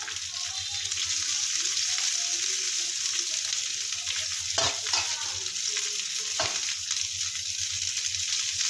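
Onions and bell pepper fry in a pan with ginger, garlic and green chilli for restaurant-style chilli cheese, sizzling steadily and loudly throughout, with a couple of sharper stirring scrapes partway through.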